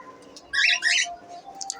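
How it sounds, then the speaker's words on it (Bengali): Small aviary birds chirp in a breeding farm, a quick burst of bright twittering calls close by, followed by fainter tweets against a quiet background. "এই যে পাখিগুলো আবার একটু দেখাই দিই আপনাদেরকে"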